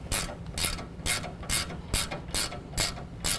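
A hand ratchet clicks in steady, evenly spaced strokes while tightening factory sway bar bolts on a 2015-17 Ford F-150 4WD during a lift kit install, about eight crisp, close bursts with no talking.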